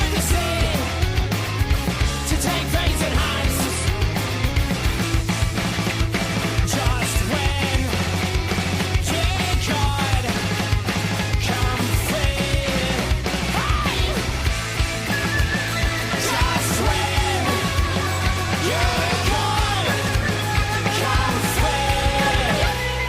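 A track by a band plays loud and dense, full-band rock with shouted vocals and constant driving drums from start to finish.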